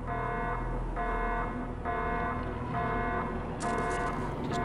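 An alarm blares in the video game Project IGI, a steady buzzing tone repeating in long pulses with brief gaps, loud and continuous, with brighter bursts of other game noise near the end.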